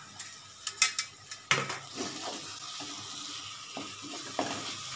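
Bhindi masala with tomato being stirred and fried in a pan: a spoon scrapes and clinks against metal in a few sharp knocks while oil sizzles and crackles steadily underneath, close by.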